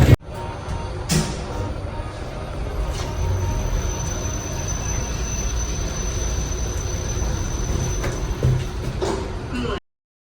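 A steady rumbling roar of a train in motion in Vietnam, continuous and fairly loud, with faint metallic squeals and a few brief knocks along the way.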